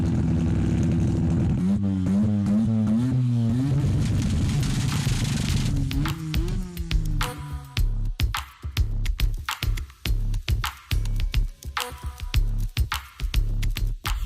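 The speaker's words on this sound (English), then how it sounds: "So, the rotary engine." A Mazda RX-7 rotary engine at Fuji Speedway revs in rising and falling sweeps, then settles into a loud, choppy, rapidly pulsing idle with sharp popping bursts, close and alone with no talk.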